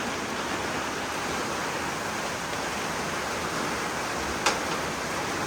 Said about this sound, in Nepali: पानी यस्तो परिरहेको छ है असिना पनि परेछ